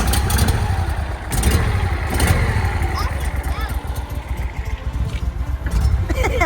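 Outboard motorboat engine idling and revving on the Mississippi River as a boat heads out for a ride, a steady close mechanical drone with background voices of adults and children talking.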